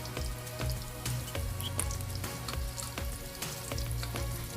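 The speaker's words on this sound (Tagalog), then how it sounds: "malapit na rin maluto yung ating hotdog." Hotdogs frying in a pan, a steady close sizzle with crackling pops and spitting throughout, no voices.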